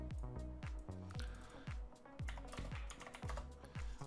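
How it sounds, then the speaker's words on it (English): Quick, close keystrokes on a computer keyboard, a run of crisp clicking taps in an irregular typing rhythm, quiet and alone. "I'll type here"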